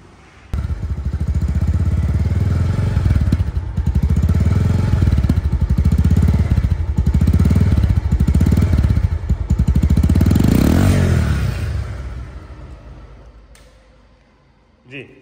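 A second-hand Bajaj Pulsar double-disc motorcycle in good condition runs close by with a steady, throbbing engine note that swells into a rev near the end, then dies away to quiet.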